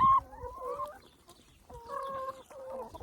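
A hen clucks and calls in repeated warbling bursts close by, with brief pauses between phrases and no talk over it.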